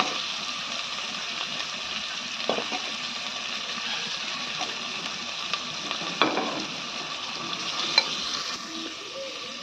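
Tomatoes and potatoes frying in a pan for a chicken soup, a steady sizzle throughout with a few scraping stirs and clatters of the spoon against the pan.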